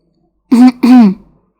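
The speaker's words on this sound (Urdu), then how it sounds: "زیب نے کھانس کر اپنی موجودگی کا احساس دلایا۔" A narrator clears his throat in two quick, loud, close coughing rasps, isolated against silence.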